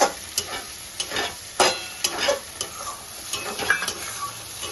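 Mashed seasoned soybeans are stirred in a pan on a gas stove, with repeated scraping spatula strokes and light sizzling at a close, even level and no talking.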